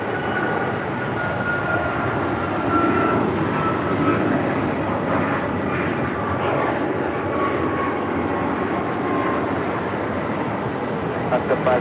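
An airliner taking off from runway 25 right at LAX, a steady loud roaring jet engine rumble sustained throughout, with radio voices talking over it.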